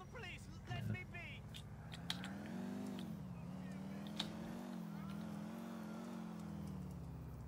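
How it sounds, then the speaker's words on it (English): A fast car driven in Grand Theft Auto IV gives a steady, moderately loud engine drone that rises and falls slightly through the whole stretch. A voice is heard briefly near the start. "Actually, I could take this car. This thing's pretty fast."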